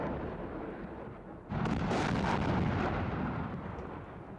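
Mortar, shell and rocket fire during the 1995 battle for Grozny booms at a distance: a heavy blast hits about a third of the way in, then rumbles and fades slowly over a low background hum.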